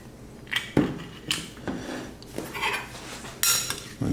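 Purple sweet potatoes are tossed with extra virgin olive oil and seasoning in a bowl, making close, intermittent clinks and scrapes of a utensil against the dish with brief pauses between strokes.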